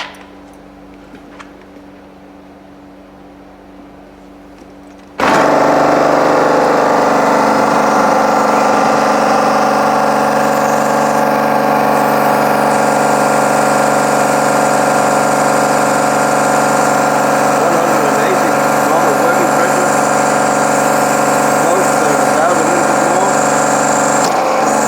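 A Neptune industrial pressure washer runs during a bypass pressure test: after about five quiet seconds it starts abruptly into a loud, steady motor-and-pump drone that holds evenly to the end.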